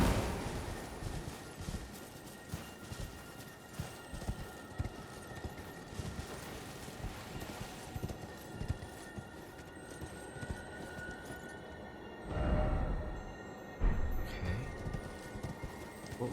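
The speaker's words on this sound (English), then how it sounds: "We do have a horse here." Horse hooves clip-clop in Elden Ring near Academy Gate Town, a steady walking rhythm running under faint game ambience, with a louder swell of sound near the end.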